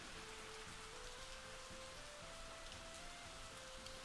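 Steady rain falls on a surface in the city-building game Soviet Republic, a dense continuous hiss with a faint tonal hum running underneath and no voices.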